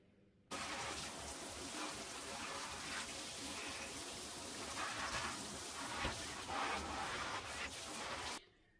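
Water sprays from a shower head over houseplants that have a mite infestation, a steady close gushing hiss that starts abruptly, holds for about eight seconds with slight variations and then stops.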